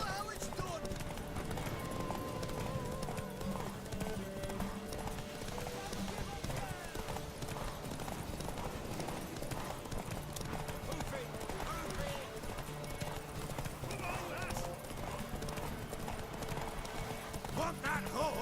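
In The Witcher 3, horse hooves clip-clop steadily under constant game sounds and voices, with a horse whinnying now and then through a busy, continuous mix.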